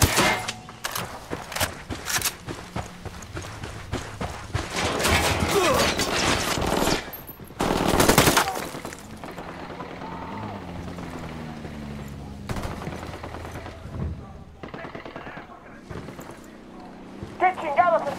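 Gunfire in the video game Ghost Recon Wildlands: dense bursts of automatic weapons crackle loudly in rapid volleys, then ease into scattered shots beneath in-game voices shouting and talking.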